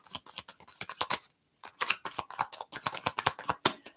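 Spirit animal oracle cards being shuffled by hand, a dense run of crisp papery riffling clicks with one brief pause, close and fairly loud with no talking over it.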